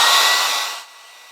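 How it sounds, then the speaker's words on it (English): Hair dryer blowing on wet watercolour paint of Christmas trees: a loud, steady broadband whoosh that fades down as the dryer winds off, leaving a faint residual hiss. "dry with a hairdryer here."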